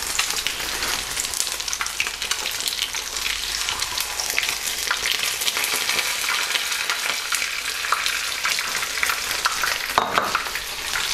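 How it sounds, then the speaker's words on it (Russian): Steady, dense sizzling of crucian carp frying in hot oil, continuous and close, with a brief louder crackle near the end. "Все, жарим буквально по 2 минутки с каждой стороны"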